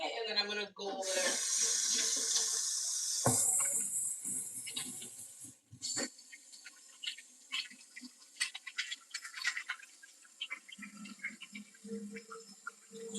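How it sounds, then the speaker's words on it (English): Water from a pot of chicken poured out into a kitchen sink, a steady splashing rush for a few seconds, followed by scattered clatter and quieter handling noises. "I'm gonna dump the water out"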